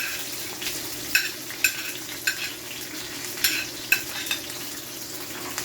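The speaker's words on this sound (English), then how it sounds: "I'm gonna go ahead and put my onion in the pot to fry it and release some flavor." Onions fry in a pot on medium flame for a Jamaican saltfish cook-up, giving a steady soft sizzle with a few sharp clicks of stirring or utensil taps against the pot.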